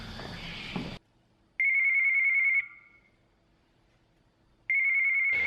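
Doorbell chime heard through a phone: two loud electronic ringing bursts separated by a pause, following a brief stretch of faint background sound.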